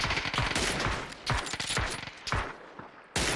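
Rapid bursts of gunfire in PUBG, loud and close, several volleys firing in quick succession with short gaps between them.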